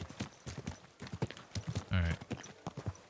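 A horse's hooves clip-clop in the medieval video game Kingdom Come: Deliverance 2, a steady rhythmic run of close, distinct steps mixed with someone speaking calmly.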